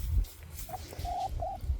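Pet chickens in a backyard give a few short, soft tonal clucks and coos, one brief call followed by two slightly longer ones, close by over a low rumble of background noise.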